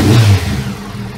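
A Yamaha FJR1300 motorcycle engine idles steadily right after a throttle body sync, a low close rumble that starts slightly louder and settles into an even murmur over about a second.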